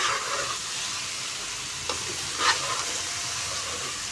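Potato and cauliflower sizzling and frying with spices in a pan while being stirred, a steady hiss with a few scraping stir sounds, close and loud with no talking.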